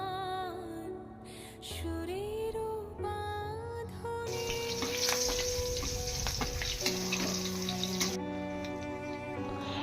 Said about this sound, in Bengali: ওই আদাটা আমি ওই তেলের মধ্যে দিয়ে আবারও ভালোভাবে একটুখানি নাড়িয়ে নিয়েছি